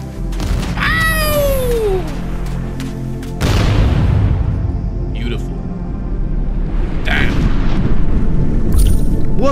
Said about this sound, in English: We're gonna get our energy bomb and we're just gonna chuck that shit.